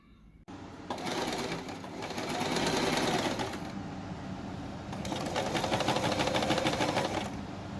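A sewing machine stitches a skirt made from quilting fabric. It rattles fast and steady in two long bursts with a short pause between them, close and clear with no talk.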